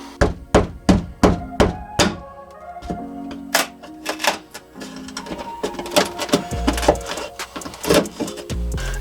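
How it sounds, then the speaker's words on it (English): An oscillating tool cuts during a van shower and bathroom build framed in 80/20 aluminum, making a run of sharp, rapid rhythmic knocks followed by denser, buzzing vibration close by. "So oscillating tool it is, and it is getting the job done."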